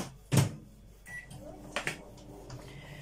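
A microwave oven defrosting butter gives a solid clunk like its door shutting, a short high beep, then a faint, steady hum broken by a few light knocks nearby.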